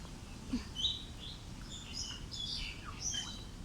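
Scattered high chirps and tweets from several small caged birds in an aviary at Kowloon Park, Hong Kong, short calls repeating irregularly over a faint background hum, fairly quiet and nearby.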